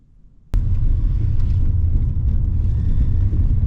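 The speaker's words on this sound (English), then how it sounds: "Engine springs into life." An MG ZT-T estate car engine fires up abruptly after a quiet moment, then settles into a loud, steady, deep idle rumble close by.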